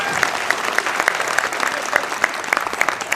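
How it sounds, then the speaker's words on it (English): Convention panel crowd at WonderCon claps briefly, a steady wash of many hands with a few sharper close claps and whoops poking through. "clap for this man."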